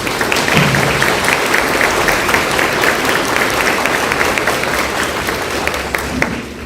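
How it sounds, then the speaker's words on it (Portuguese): A church congregation applauds during Mass, a steady, fairly loud stretch of many hands clapping together for several seconds, with a brief voice surfacing in the background. "Vamos aplaudir a palavra de Deus."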